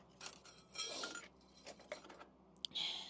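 Metal pot lids and spoons clink and clatter while someone rummages through discarded items in a Swiss rubbish bin: scattered bright rattles, a sharp single clank, then a longer jangle near the end, all close by.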